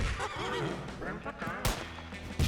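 A horse in the video game Ghostbody whinnies with a wavering, rising and falling neigh, fairly close, while a person speaks intermittently over it.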